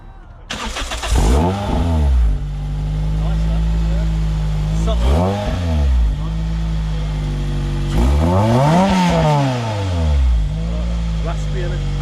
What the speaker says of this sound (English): I want to hear those exhausts.